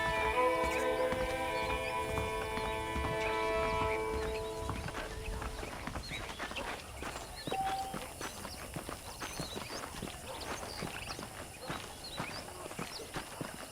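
Horse hooves clop in a steady walking rhythm in Red Dead Redemption, starting under a sustained musical tone that fades, then continuing alone for several seconds.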